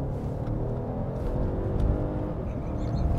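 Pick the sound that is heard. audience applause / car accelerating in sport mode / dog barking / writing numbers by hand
car accelerating in sport mode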